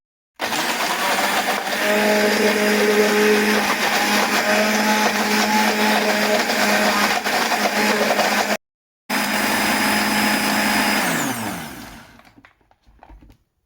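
An electric blender whirs loudly, blending a marinade paste of dried thyme, salt and oil. It runs steadily for about eight seconds, stops briefly, restarts, then spins down to silence.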